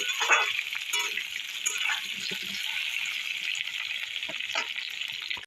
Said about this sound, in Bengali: আলুগুলো 2 মিনিট ভেজে নেব।